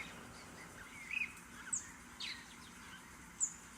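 Short, faint bird chirps from a warbler in the Wingspan board game's digital version, four thin high calls spaced irregularly over a soft steady background, with no talking.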